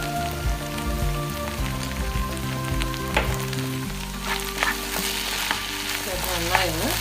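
Egg mixture seasoned with pepper sizzles and crackles steadily in a frying pan while being stirred, with a spatula scraping and clinking over the constant frying hiss.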